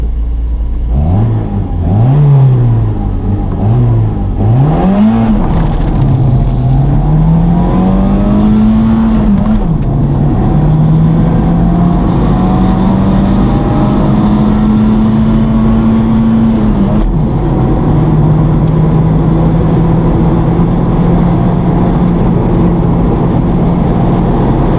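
Renault Super 5 GT Turbo with a GT2871 turbo revving hard during a burnout on a rough road, engine note rising and falling in repeated sweeps before holding a steady high drone, loud and close with no talk.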